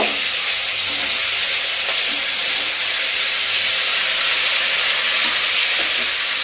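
Loud, steady sizzling of chopped onion and tomato hitting frying potatoes in a pan, a continuous bright hiss close up with a few faint clinks and no voices.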